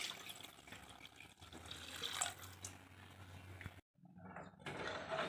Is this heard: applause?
no